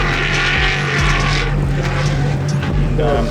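A stroked LS3 V8 in an S14 drift car at Manfeild, New Zealand, roars loud and steady at high revs, with a deep drone holding throughout.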